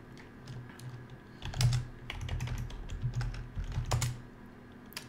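Close typing on a computer keyboard during a Linux server partitioning setup, a busy cluster of clicking keystrokes with a few heavier thumps, set against a low steady hum, with no talk.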